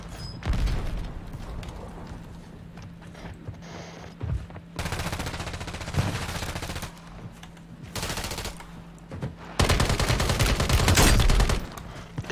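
Gunfire in the video game Call of Duty: Warzone comes in several bursts of rapid automatic fire, the longest and loudest near the end, broken by brief pauses and single shots.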